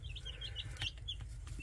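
Ten-day-old baby chicks chirp softly in a brooder, a quick run of small high peeps over low background rumble, faint and close.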